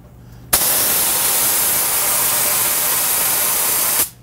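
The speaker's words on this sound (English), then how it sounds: "Spray for a few minutes or a few seconds." A steady, loud hiss of a spray gun blasting water runs for about three and a half seconds, starting and stopping abruptly.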